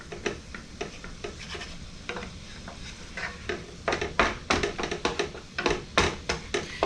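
Ground meat is broken up and stirred in a pan on high heat, producing a soft sizzle under a series of sharp scraping and tapping strokes that grow busier and louder toward the end.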